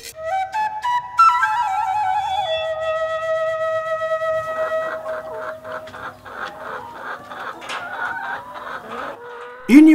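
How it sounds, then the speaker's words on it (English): Chickens clucking and crowing on a poultry farm in Uganda, a steady stream of close, overlapping calls from the flock, with a loud cry at the end. "So let's take a look at the chickens."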